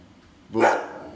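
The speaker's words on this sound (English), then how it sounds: "barking again" A single dog bark, loud and close, breaks a quiet background during a sports talk show recording.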